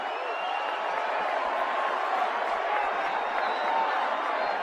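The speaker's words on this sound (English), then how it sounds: "Sellout crowd on its feet here at Petco." A sellout baseball crowd of about 40,000 on its feet at Petco Park in San Diego during a Padres–Mets game, a steady, dense roar of cheering and murmur with no breaks.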